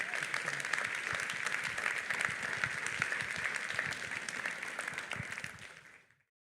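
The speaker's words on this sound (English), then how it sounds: "Give them one more round of applause." An audience at a leadership speaker event claps steadily in a dense, even wash of applause with faint voices underneath, then the sound fades out quickly at the end.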